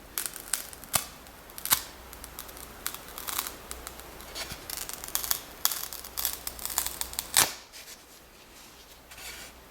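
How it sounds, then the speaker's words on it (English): Glued piece peeled off a wood surface, a second-time glue joint giving way in a series of sharp crackling tears and rasping rips, with quieter scratchy rustling between the louder bursts. "I'm going to peel this off just so you guys can see how easy it is to peel it off"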